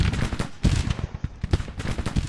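Rapid, overlapping gunfire and heavier cannon booms from Civil War artillery and rifles in the Grand Tactician strategy game, a dense, steady barrage of close and distant shots rolling without a break.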